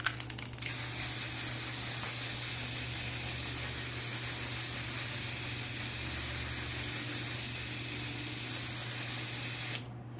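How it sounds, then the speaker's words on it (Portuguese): Tech Bond varnish spray hissing onto EVA foam hortensia flowers, one loud, steady, close spray lasting about nine seconds and then stopping abruptly, with no speech. "depois que seca, fica show com esse spray da Tech Bond verniz"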